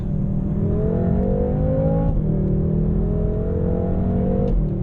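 Steady engine drone heard inside the cabin of a 2017 BMW M6 Gran Coupe Competition, amplified through the speakers, low and continuous, with harmonic tones rising as it revs, briefly dipping and climbing again.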